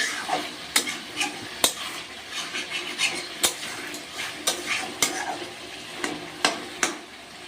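Chicken kosa stirred and fried in a pan, a constant sizzle beneath repeated clinks and scrapes of a spoon against the metal in an uneven rhythm, close up and without talk.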